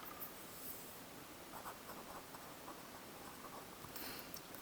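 A math answer being written out by hand, heard as faint, steady scratchy strokes in a quiet room, with no talking.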